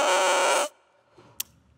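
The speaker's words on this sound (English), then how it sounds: "The sound of the reed when you blow on it is called the crow." A bassoon double reed blown on its own crows loudly with a harsh, buzzy, reedy squawk held for under a second, then cuts off to near silence with a faint click.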